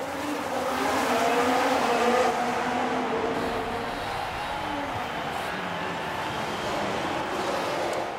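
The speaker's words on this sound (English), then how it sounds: "it's lights out and away we go" A field of Formula 1 cars accelerates off the grid at the Saudi Arabian Grand Prix in the F1 racing game, a continuous rising engine roar with a faint crowd behind and a voice talking over it.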